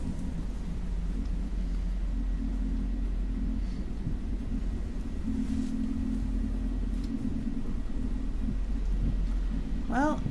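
Steady rain hisses alongside low rolling thunder in a video game, a continuous dense wash of sound with rumbles swelling now and then, no voices until a faint sound near the end.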